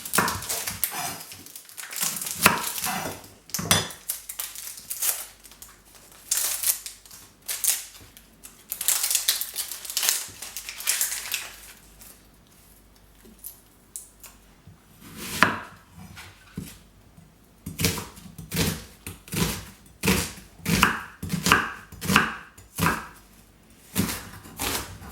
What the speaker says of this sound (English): First thing I'm going to do is finally chop up these 2 onions.